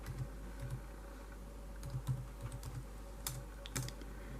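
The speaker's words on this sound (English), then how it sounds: "we're going to go into search and type" Someone types on a computer keyboard, entering a search, with soft irregular key clicks in short bursts and a couple of sharper taps, close and quiet over a low background hum.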